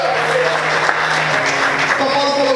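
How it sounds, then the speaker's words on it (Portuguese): A church congregation applauds during a service, dense continuous clapping close and loud throughout, with a voice faintly audible underneath. "Você pode glorificar e aplaudir ao Senhor nessa manhã."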